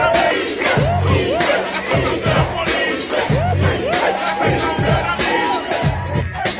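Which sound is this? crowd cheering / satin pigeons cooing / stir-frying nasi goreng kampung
crowd cheering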